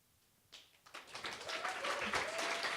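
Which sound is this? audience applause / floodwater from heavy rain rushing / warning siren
audience applause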